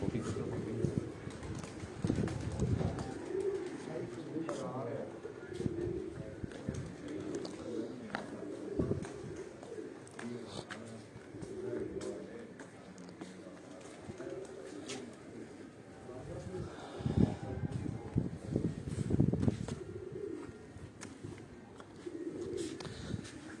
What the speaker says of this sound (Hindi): 2 कबूतर आए ने जी